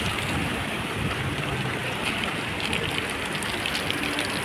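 Floodwater from heavy rain in Sharjah, UAE, pours across a road level with the footpath, a constant broadband roar like surf with no voices over it.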